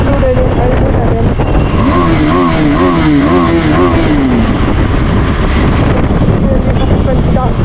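A KTM 390 Adventure motorcycle's engine and exhaust drone while riding, rising and falling in pitch under heavy wind buffeting against the microphone. The sound is loud and continuous.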